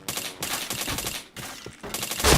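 Rapid bursts of gunfire from a shooter video game, loud and close, with a brief pause midway before the firing resumes.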